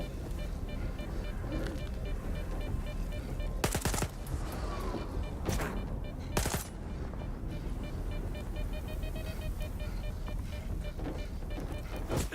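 Gunfire in the video game STALKER 2, with several loud bursts of shots standing out against a dense, steady game soundscape of ambient noise and effects.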